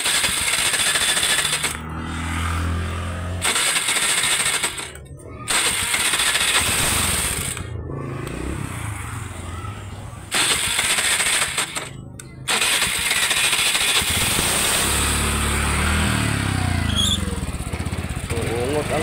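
A repaired Suzuki Burgman scooter with a check-engine fault being started, its engine cranking and catching, then revving and idling loud and close while someone talks over it, with a few brief gaps.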